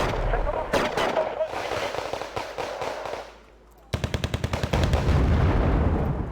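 Heavy explosions and rapid gunfire from a bomber dropping four 1,000-pound bombs on a North Korean position in the strategy game Wargame: Red Dragon, loud dense blasts, a brief lull, then a burst of rapid repeated booms.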